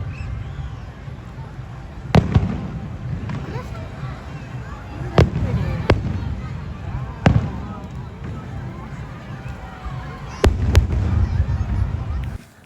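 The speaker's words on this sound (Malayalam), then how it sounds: "അങ്ങനെ ഗ്ലോബൽ വില്ലേജിലെ വെടിക്കെട്ടൊക്കെ കണ്ട്" Fireworks display at Global Village in Dubai: sharp, echoing bangs come singly and in a close pair, heard over a steady hum of crowd chatter and people talking nearby.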